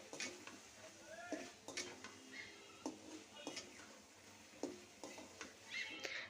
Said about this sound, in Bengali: তো এখন চিংড়ি মাছ আলু ভালো করে একটু কষিয়ে নিচ্ছে